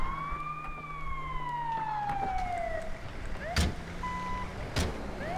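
An ambulance siren wails in GTA V on a modded firefighter emergency run, its long sweeping tones rising and falling steadily with a few sharp bursts mixed in.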